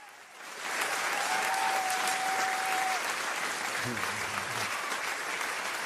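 Studio applause rises quickly after a quiet opening into a steady, even round of clapping that holds to the end, with a brief voice murmuring low underneath partway through.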